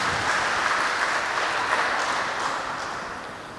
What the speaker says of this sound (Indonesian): Mari kita beri aplaus kepada mereka berdua.